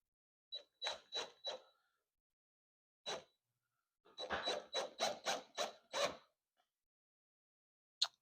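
A screwdriver drives a fastener into painted wood by hand in short, gentle bursts, each a scratchy creaking turn with brief pauses between, close by and quiet.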